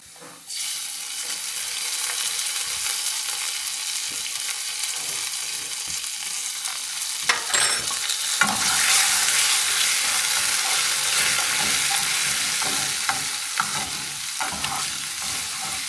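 Onions in a pan erupt into loud, steady sizzling and hissing once sugar and water go in, with occasional stirring scrapes, close and continuous without talk.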